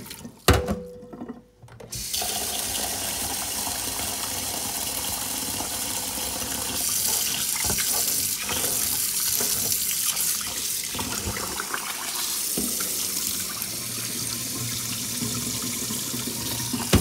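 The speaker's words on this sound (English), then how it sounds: "then you put water again." Tap water pours steadily into a pot of rice being washed for steamed Asian-style rice, a close, continuous splashing rush that starts after a couple of brief clanks and keeps running with slight changes in tone.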